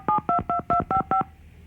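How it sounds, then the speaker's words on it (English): A telephone on a radio call-in show sounds six quick DTMF keypad tones in an even rhythm, clear and close, followed by brief quiet. "We have a dial tone, or more phones ring."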